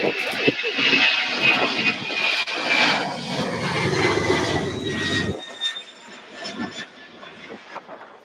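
A jet airliner landing long at Louisville airport, its broad engine roar loud at first and then thinning into a fading whine as it rolls down the runway.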